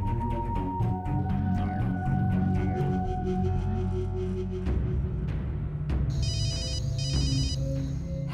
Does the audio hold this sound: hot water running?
no